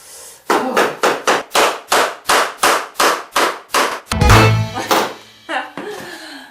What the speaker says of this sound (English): Now let's just hammer it.